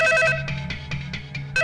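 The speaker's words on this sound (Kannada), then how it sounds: "ಫೋನ್ ತಗೊಳ್ರಿ." Repeated electronic telephone ringtone in a Kannada action drama scene, loud and close, chiming in regular bursts across the whole clip with no talk over it.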